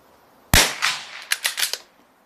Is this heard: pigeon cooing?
no